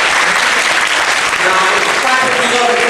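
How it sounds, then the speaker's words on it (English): Crowd of listeners at a teen conference clapping in a loud, dense, continuous wave that fills all three seconds. "Clap if you love sports."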